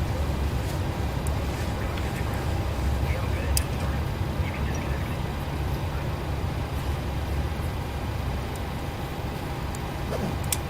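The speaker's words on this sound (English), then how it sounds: "both engines have started successfully." Twin engines of a Boeing 737-800 running steadily in Microsoft Flight Simulator 2020, a constant broadband jet roar with low rumble that holds level throughout, with voices talking over it.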